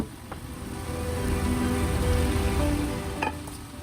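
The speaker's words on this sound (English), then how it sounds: "While these veggies are cooking," Leftover peppers and onions cook in a hot pan, giving a close, continuous frying hiss that swells slightly and holds steady, with a faint clink or two near the end.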